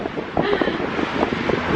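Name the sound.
strong wind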